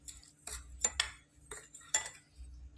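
A spoon mixes cashews into a white sweet mixture in a bowl, making a few distinct, close scraping strokes and light clinks separated by short pauses, with no speech.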